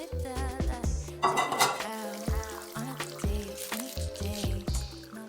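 Flavored chili oil pours into a wok with a brief sizzling rush, surrounded by repeated close metallic clanks and scrapes of utensils against the pan.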